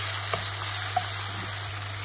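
Tomatoes fry in a pan alongside shallot, giving off a steady close sizzle with faint crackles and pops, and no one speaking.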